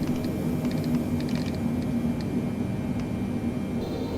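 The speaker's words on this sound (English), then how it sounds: "dropping our speed down to 151 so we can set our flaps to 15" Flaps on a Boeing 777-300 being set to 15 in Microsoft Flight Simulator as the airliner slows for approach: a steady, loud cockpit and engine drone with scattered faint mechanical clicks and creaks, no talking.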